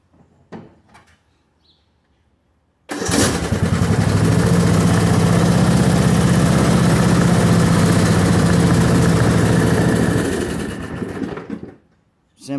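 MTD riding lawn mower with a VSP clutch system, its engine started and run steadily at a loud, even idle for about seven seconds before shutting off, preceded by faint mechanical clicks.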